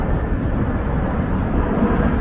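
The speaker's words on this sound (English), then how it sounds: "Low flying plane." A low-flying airplane passing overhead in Flushing, Queens, New York City, a loud broad engine roar that fills the street with no one speaking.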